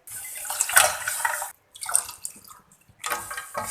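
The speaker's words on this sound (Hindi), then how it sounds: "3 कप ठंडा पानी डालेंगे।" Cold water gushes from a tap or jug into a cooking pot, coming in three bursts of pouring broken by short pauses, close and fairly loud with no voices.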